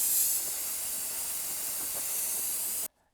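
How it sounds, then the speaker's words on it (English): Aerosol brake cleaner sprays onto the front brakes of a 2012-2017 Toyota Camry: a loud, continuous close-up hiss lasting under three seconds, then cut off abruptly. "we'll give that a little rinse with some brake clean"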